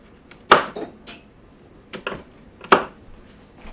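A knife slices through cassava (yuca) into half moons, giving a few sharp, clicking chops against a cutting board with two louder strikes among softer taps, close and otherwise quiet.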